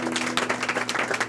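A church congregation breaks into a brief burst of clapping, a dense patter of many hands lasting just over a second.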